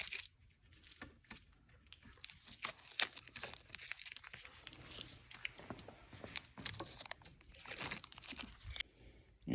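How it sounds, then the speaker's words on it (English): Tape being peeled off a new window screen frame during a plunger installation, a run of crackling, tearing strips with sharp crinkly bursts, close and loud, with no talking. "And then you just take off your tape."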